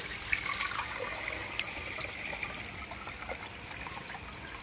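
Cow's milk poured into a wok on a stove for homemade powdered milk, giving a steady close trickle and splash that runs unbroken for several seconds with no talk.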